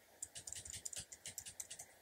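Keys tapped on a computer keyboard to steer a sprite in a simple block-coding game, a quick irregular run of light clicks close by with no talking.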